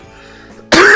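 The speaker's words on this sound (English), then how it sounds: "I'm coughing like crazy." A person coughs once, loudly and abruptly, during a DIY solar panel build with RTV silicone, after a near-silent stretch.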